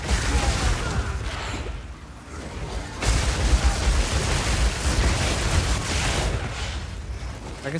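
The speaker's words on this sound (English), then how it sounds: "The explosion's just straight up bigger." Dense, rumbling explosions in the action role-playing game Path of Exile 2, a continuous roaring wash of blasts with a brief lull before a louder surge of booming bursts.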